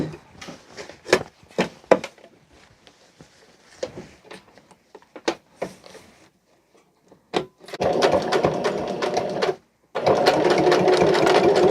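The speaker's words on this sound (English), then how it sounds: "And then we are ready to stitch." A sewing machine stitches curtain fabric, starting with scattered clicks and taps, then running in two long, loud, steady bursts split by a short pause.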